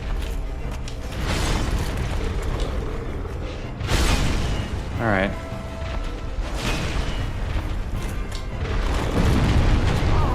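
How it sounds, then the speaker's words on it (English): A boss in Dark Souls attacks with deep explosive booms and heavy rumbling impacts that recur through the stretch amid clanking game effects, and someone says a word briefly. "that has an explosion to it"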